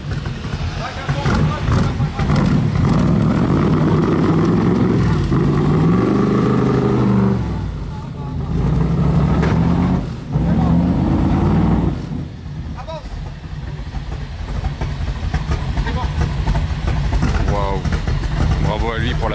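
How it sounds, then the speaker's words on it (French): An AC Cobra's engine roars close by on a Monaco street during the Top Marques supercar show, then settles into a deep, throbbing idle, loud throughout with people talking over it. "Oh, le boucan de cette AC Cobra, elle est dingue."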